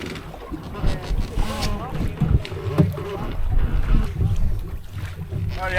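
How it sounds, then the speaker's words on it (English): Wind gusting over a reefed-main sailboat running at sea in roughly 15 to 20 knots, a steady rushing roar with buffeting on the microphone and water noise, while people talk faintly beneath it. "Probably 15 to 20 knots out there, and the wind's going to increase."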